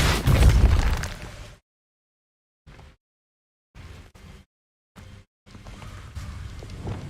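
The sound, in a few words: Depulso and Incendio spell blasts in video game Hogwarts Legacy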